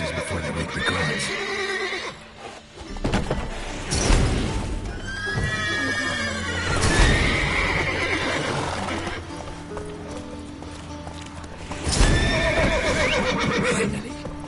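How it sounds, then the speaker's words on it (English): In the video game The Witcher 3: Wild Hunt, several horses neigh and whinny in turn over clip-clopping hooves, with loud, sharp calls rising above the steady stamping. "Gotta calm all the horses before they wake the guards."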